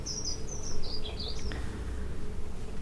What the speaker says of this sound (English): hear that bird outside?